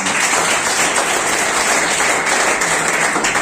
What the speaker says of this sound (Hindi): तो रणजीत जी के लिए तालियां